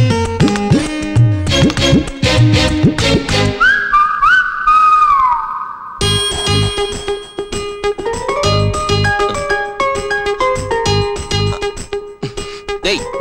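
A man whistles in his sleep during a Telugu film scene, a wavering whistled melody rising briefly and mostly mixed with loud background music.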